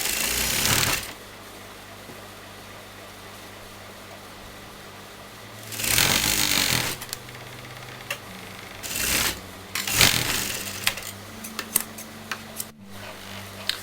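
A sewing machine runs in several short, close bursts of stitching on anarkali fabric, with quiet pauses between runs and no voices.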